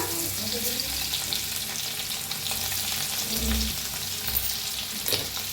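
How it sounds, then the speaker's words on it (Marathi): Garlic frying in hot oil with cumin and asafoetida, a loud continuous close sizzle with crackling bursts and occasional stirring scrapes, no talking. "लसूण बी चांगला भाजून घ्यायचा"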